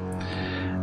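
A heavily modulated looping delay in a VCV Rack ambient industrial noise patch produces a dense, sustained distorted drone with layered buzzing harmonics, steady and loud throughout.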